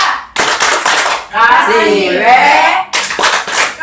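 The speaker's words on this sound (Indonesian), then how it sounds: "Kita beri tepuk" A group of adult participants in a child protection training session breaks into two bursts of loud, close applause, with a stretch of talking between them.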